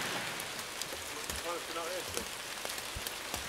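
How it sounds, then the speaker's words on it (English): Rain falls steadily outdoors on a music video set, a continuous hiss of drops hitting surfaces with a few louder taps. Brief faint voices are heard under it. "Rain slows you down."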